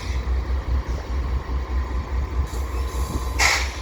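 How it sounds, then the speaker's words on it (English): A CP freight train with stacked and mixed cars rolls out westbound at Dorval on a grey afternoon, a steady rhythmic low rumble of wheels over rail joints, close and continuous, with a brief higher burst near the end. "here we have this train leaving westbound"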